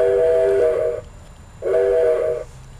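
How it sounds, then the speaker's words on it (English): Model train whistle sounded from a handheld hand controller, giving two sustained tonal blasts with a short gap between them, clear and close with no talking. "This is the whistle."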